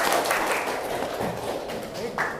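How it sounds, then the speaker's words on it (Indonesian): Students in a classroom applauding together, a brief, moderately loud burst of mixed clapping with some voices in the background. "tepuk tangan untuk kita semua"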